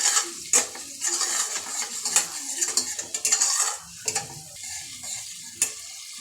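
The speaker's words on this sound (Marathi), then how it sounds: "याला चांगलं मिक्स करून घ्यायचं आहे।" Turmeric, homemade masala and coriander-cumin powder are stirred in a pan for a whole masoor curry, with a steady sizzle broken by repeated scrapes and clinks of a metal spoon against the pan, close and fairly loud, no talking.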